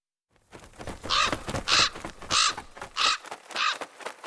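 Raven cawing: five or six loud, harsh calls spaced about half a second apart, close and alone over a light background.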